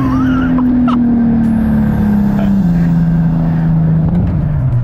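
A loud turbocharged car engine with a very big turbo drones steadily, its pitch slowly sliding lower, with a faint whistle and high chirps above the rumble.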